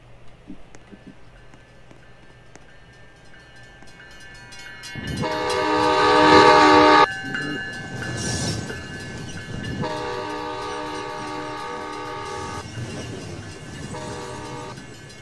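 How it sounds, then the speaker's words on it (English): A train rolls past in the Roblox video game, its loud horn sounding in long sustained blasts over rumbling wheels that build to a peak and then ease off. "Okay, train 14 is almost to me"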